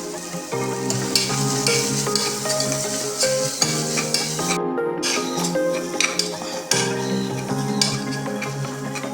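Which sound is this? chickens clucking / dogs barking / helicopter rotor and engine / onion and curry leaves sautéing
onion and curry leaves sautéing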